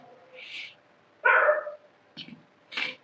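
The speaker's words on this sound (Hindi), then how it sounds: "कुत्ता भौंक रहे हैं रात में" Dogs bark at night, heard as several separate short barks spread across a few seconds at moderate distance, with quiet gaps between them and no talking.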